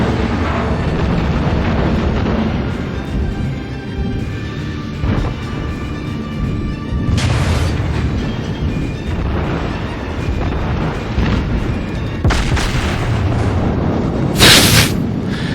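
Battleship main guns of the South Carolina firing in World of Warships, heard as repeated heavy booms over a continuous rumbling battle din, with loud sharp blasts near the middle and end.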